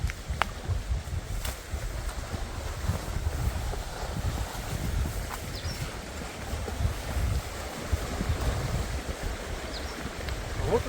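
Lake water washing against boulders along a rocky shore, a steady low rushing wash with gusty wind buffeting the microphone throughout, no voices.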